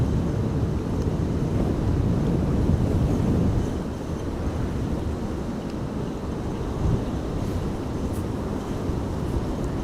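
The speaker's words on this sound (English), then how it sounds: "Oh, wind all of a sudden picking up." Strong storm winds gust across Amsterdam Schiphol Airport during Storm Benjamin, a loud, dense roar buffeting the microphone that eases slightly partway through but keeps blowing steadily.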